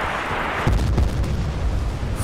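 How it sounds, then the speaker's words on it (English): A flashbang mortar explosion in Battlefield Bad Company 2 hits as a loud, deep boom over constant battlefield noise, followed by a rolling low rumble and a couple of smaller thuds. "I didn't know they had flashbang mortars."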